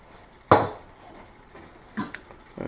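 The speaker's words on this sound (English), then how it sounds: "I'm going to add the carrots and the potatoes" Chopped carrots and potatoes go into a large pot of chicken soup, landing with one sharp clattering thud followed by a couple of softer knocks and dull drops, close and alone with no talk.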